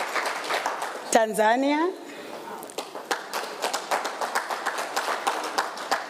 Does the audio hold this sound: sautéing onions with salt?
no